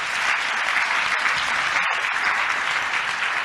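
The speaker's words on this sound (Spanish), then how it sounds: "Vamos a dar un fuerte aplauso al Señor." A church congregation claps loudly in praise during a sermon on Christ's resurrection, a full, continuous burst of many hands with an even, roomy texture and a brief dip partway through.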